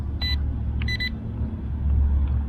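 A budget brushless D6 Pro toy drone emits a few short high electronic beeps, one single and then a quick double, signalling headless mode, over a steady low motor rumble.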